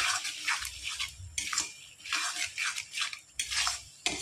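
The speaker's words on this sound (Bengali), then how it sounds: "এবার আমি ভালো করে 3টে সস দিয়ে মিশিয়ে নেব পেঁয়াজটাকে" Onions being stirred through chilli sauce, soy sauce and a third sauce in a pan, a spoon scraping and knocking against the metal in repeated bursts, close and fairly quiet with a soft wet sizzle underneath.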